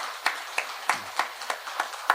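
A small congregation at a Wednesday church service claps in welcome for two newly appointed district leaders, about eight sparse, fairly even claps ringing out quietly in a roomy space with no talk.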